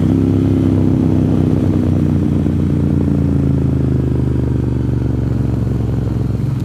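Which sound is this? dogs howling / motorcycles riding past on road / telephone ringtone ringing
motorcycles riding past on road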